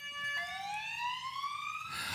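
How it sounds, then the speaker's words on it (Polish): Ambulance siren as the ambulance departs, a single close wailing tone sweeping steadily upward in pitch, loud and clear above faint background noise. "ambulans, który wyjeżdża do urzędu celnego, a stamtąd w najbliższych dniach będzie jechał do Charkowa"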